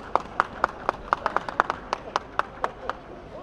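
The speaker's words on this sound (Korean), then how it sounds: "박수 좀 치세요. 박수." Sparse, distinct claps from a small crowd at an outdoor political campaign event in Pangyo, with individual hand claps spaced irregularly over a steady background murmur.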